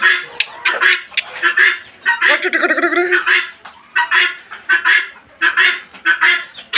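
Pigeons kept with their new chicks call loudly in a busy, overlapping chorus of harsh, honking cries, with a person talking among them.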